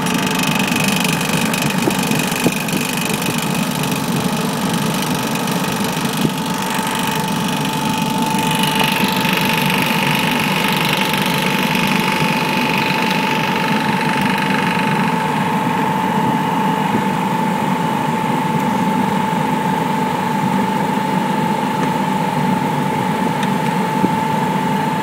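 A three-phase electric motor, wired through a round-pin plug and socket with a separate control circuit, runs with a steady loud hum and constant drone that holds throughout, with no talking.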